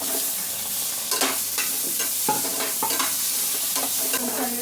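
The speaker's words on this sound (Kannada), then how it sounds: "ಈರುಳ್ಳಿ ಫ್ರೈ ಮಾಡ್ಕೊತೀನಿ ಫಸ್ಟ್ ಮಸಾಲೆ ಫ್ರೈ ಮಾಡ್ಕೊಳ್ಳೋಣ" Onion and masala frying in a pan for an Indian egg curry, a steady close sizzle with repeated scraping and clacking stirring strokes.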